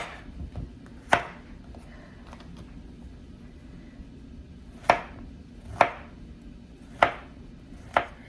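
A knife cuts an eggplant into rounds on a board, five or six sharp, separate thunks spaced irregularly, close and clear over quiet room noise.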